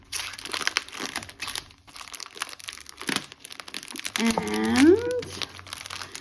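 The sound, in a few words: crinkling plastic packaging of a cross stitch kit being opened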